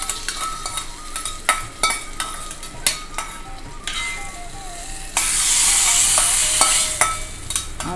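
Ingredients stir-fried in a pan for kootu curry for an Onam sadya: a steady sizzle punctuated by repeated sharp spatula clinks against the pan, with a louder surge of frying hiss partway through, no voices.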